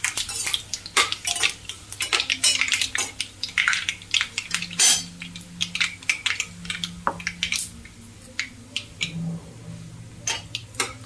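Dried red chillies stirred in a metal pan with a spoon, giving a run of sharp, irregular scraping and clinking strokes close by, with a low steady hum underneath.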